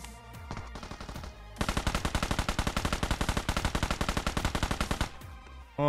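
Honey Badger rifle firing in PUBG Mobile's Metro Royale mode: a few scattered shots, then a long burst of rapid, evenly spaced automatic fire lasting about three and a half seconds, loud and close.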